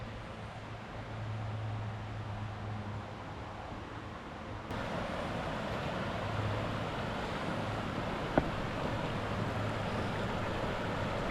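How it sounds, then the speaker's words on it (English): Small waterfall on a river at Osage Hills State Park, Oklahoma: a steady broadband rush of falling water, moderately near and continuous, with a low hum underneath and no voices. "A little bitty tiny waterfall."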